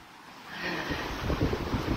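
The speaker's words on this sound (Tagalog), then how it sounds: "Lakas na hangin." Strong typhoon wind in Aparri, Cagayan, blowing as a steady roar that builds and gusts louder toward the end, with buffeting low rumble on the microphone and no voices.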